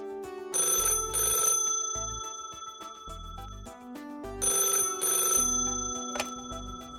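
In The Sims, an old landline telephone rings in two clear bursts of bright electronic trilling, loud and close, set against light game music with no one speaking.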